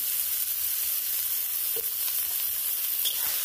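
Rice and banana flower frying in a pan for homemade mochar polao, with a steady close sizzle throughout and a few faint stirring taps.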